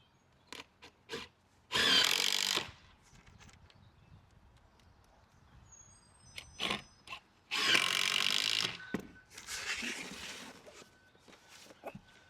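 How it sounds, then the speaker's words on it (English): A power drill drives screws to fix a tilt fillet to a bathroom wall, with two loud, close whirring bursts of about a second each, and scattered knocks and handling sounds in between. "Screwing the tilt fillet in."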